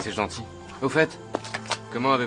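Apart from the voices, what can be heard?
No everyday noise stands out behind the speech.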